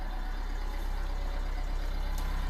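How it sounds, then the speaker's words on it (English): Diesel car engine idling with a steady low rumble and a fine, even clatter running throughout, close and unbroken, with no voices. "You get to hear the wonderful clatter of the diesel engine."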